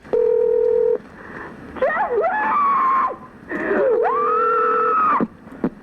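A telephone gives a dial-type tone at first, then a distressed voice wails and cries out in long rising tones. A second steady tone comes under more crying near the end.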